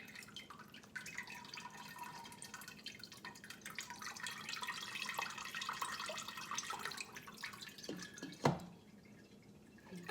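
Juices drip from a big cooked turkey as a faint, steady trickle with soft splashes, ending in one slightly louder drop near the end.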